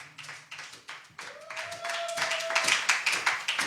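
A church congregation claps in praise of Jesus Christ, a steady rhythmic beat of many hands over faint music, growing fuller toward the end.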